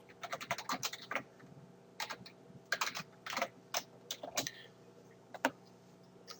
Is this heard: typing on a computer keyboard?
yes